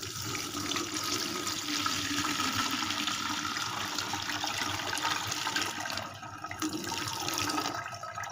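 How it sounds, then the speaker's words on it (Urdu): Cooled homemade liquid fertilizer water being strained, poured in a steady continuous splashing stream that briefly dips near the end before resuming. "ہم اس کو یوں چھان لیتے ہیں."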